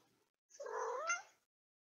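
A pet cat gives a single drawn-out meow lasting about a second, fairly close and clear against an otherwise quiet room.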